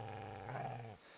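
Dog growling in the Kingdom Come: Deliverance video game, a low, rumbling snarl held close and fairly quiet for about a second before it cuts off into silence, with no talking over it.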